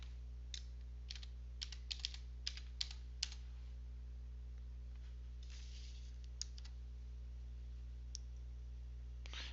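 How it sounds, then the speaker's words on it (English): Keys clatter on a computer keyboard as an image title is typed, a couple of short bursts of soft clicks with pauses between them, close and quiet against a steady low electrical hum. "Simply type the desired title underneath image title."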